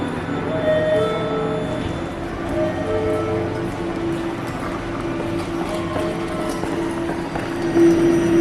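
A New York subway train rumbles steadily nearby, with rolling wheel noise, faint metallic squeals and a sustained tonal whine rising toward the end, heard without any talking.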